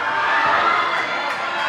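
A large crowd cheers and shouts steadily for climbers at a youth bouldering competition final in Kaunas, a dense, loud roar filling the space without letup.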